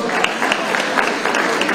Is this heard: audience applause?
yes